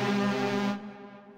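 A chord plays from the InstaDance chord plugin for Logic Pro X on its inverse setting, one rich sustained synth chord held for under a second before fading, heard alone with no voices.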